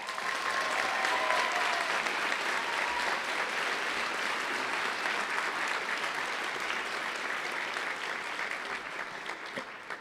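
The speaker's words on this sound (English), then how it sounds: "please help me in recognizing all of the parents that are here today with a warm round of applause" Warm applause from a graduation ceremony audience honouring the parents, a steady, dense clapping from a large crowd in a hall that holds evenly for the whole stretch with no voices over it.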